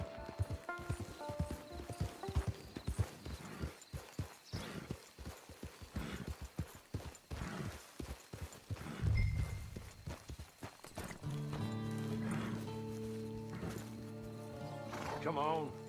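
A horse in the Red Dead Redemption 2 online game clip-clops and whinnies near a camp, hoofbeats running under a man's speech, followed by a long tonal passage of music near the end.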